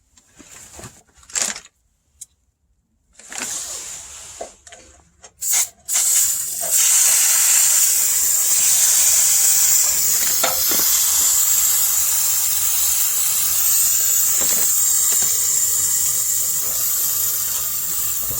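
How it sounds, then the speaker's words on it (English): Fluid Film aerosol sprayed onto the bumper of a 1962 Mercury Comet, a few short bursts and clicks from a jamming cold nozzle, then a loud, continuous close hiss of spray lasting many seconds. "I'm going to spray these down, and I'm going to let this set up a little bit."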